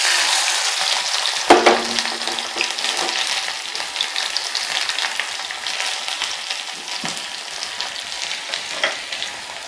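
Steady, loud sizzling of mustard seeds and chopped shallots frying in hot coconut oil, with a sharp crackle early on and occasional stirring clinks throughout.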